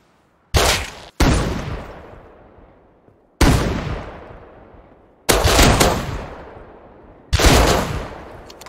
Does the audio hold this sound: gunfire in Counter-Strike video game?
yes